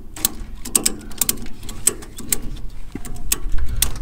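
Mechanical clicks and ratcheting from a strap ratchet being worked to clamp a motorcycle onto a hire trailer, a quick irregular run of sharp ticks over a low background rumble.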